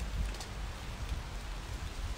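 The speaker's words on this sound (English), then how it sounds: "And it's raining, but who cares?" Rain falls around a mountain hotel balcony in Baza as a steady, dense patter with a low rumble, even and close, with no one speaking.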